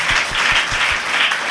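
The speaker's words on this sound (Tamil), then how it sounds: "ஆண்கள்லாம் ஒரு தடவை கைதட்டுங்க பார்க்கலாம்." Men in a church congregation clap together in a sustained, dense burst of applause, loud and close, filling the whole moment without speech over it.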